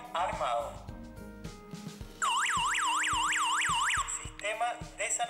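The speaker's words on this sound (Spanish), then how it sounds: "si el PIR detecta un movimiento, se activará también la alarma" WiFi GSM home alarm siren triggered indoors by a PIR motion sensor, sounding a loud electronic wail that sweeps up and down in rapid repeated cycles. It comes after a run of short beeps and clicks, with a person speaking around it.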